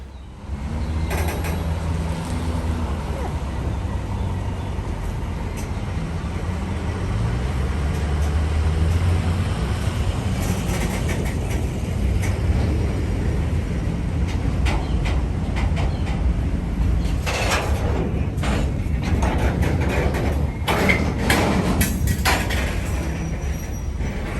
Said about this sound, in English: Now the locomotive crew shoves the entire train backwards in order to cut up the empties